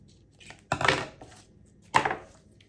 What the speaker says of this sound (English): So I'm going to go ahead and just cut that.